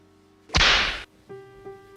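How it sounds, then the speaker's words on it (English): A single sharp whip crack sound effect snaps loudly in a half-second burst of hiss, followed by a faint low hum and a couple of soft tonal blips. "Whip."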